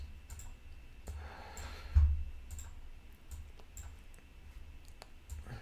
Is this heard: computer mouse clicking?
yes